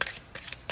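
Quick riffling bursts of playing cards being shuffled, three short flutters in rapid succession, close and crisp.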